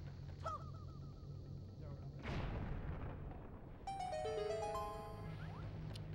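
A bomb flower blasts a rock in the video game Zelda: The Wind Waker: one loud, sudden explosion with a broad rumbling burst that trails off, set among chirpy game music and effects.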